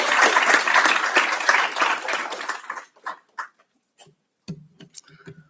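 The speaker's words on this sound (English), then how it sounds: "huge round of applause" A round of applause from the audience at a school board meeting, loud and full for under three seconds before thinning to a few scattered claps and small noises.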